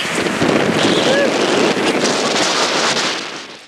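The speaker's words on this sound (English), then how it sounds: "It's windy!" Strong wind in Thailand buffeting the microphone in a loud, steady roar that eases off at the end.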